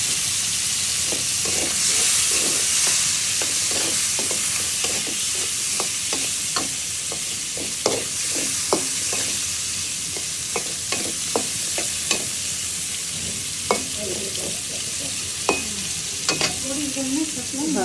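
Meat fries in a pan with a constant hissing sizzle, while a utensil stirs and scrapes it in a string of sharp, irregular clicks and knocks heard close up.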